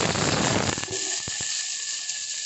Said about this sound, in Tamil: நம்ம இப்போ வெங்காயம், காஞ்சி மிளகாய், கருவேப்பிலை எடுத்து வச்சுருக்கல தாளிக்கிறதுக்கு, அதை போட்டு